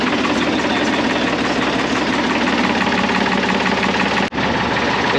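A sailboat's engine runs steadily at close range, a loud, continuous mechanical drone with a fast, even throb, cut by a single brief dropout near the end.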